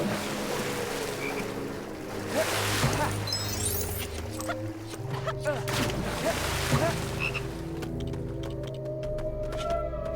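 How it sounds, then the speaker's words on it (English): Frogs croak in repeated, overlapping calls at moderate distance, a layered chorus that swells and fades over steady background ambience. "froggies."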